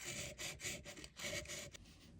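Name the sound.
hand sanding solder on a brass ring gear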